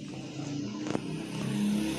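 A car engine runs steadily with a low, droning hum that swells slightly toward the end, heard up close with no talking.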